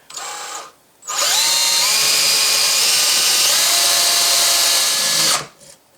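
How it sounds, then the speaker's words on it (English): A power drill bores holes into a rifle stock during a Saiga 7.62 conversion assembly, a brief initial burst, a short pause, then one long sustained whine for about four seconds before stopping, close and loud with no talking. "now it's time to start drilling some holes in here to secure the stock."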